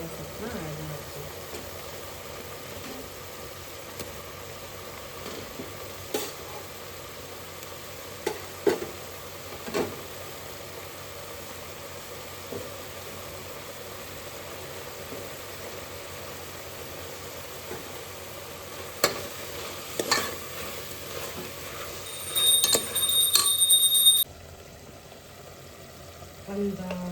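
Fenugreek leaves fry in homemade oil in a pan with a faint, steady sizzling hiss. Scattered soft pops and utensil clinks break through, with a louder burst of clatter near the end.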